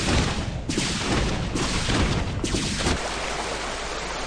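Siege tank artillery fire in StarCraft II: a dense burst of heavy booming blasts in quick succession over a battle, loud and close, with several impacts clustered in the first three seconds before settling into a rumbling wash.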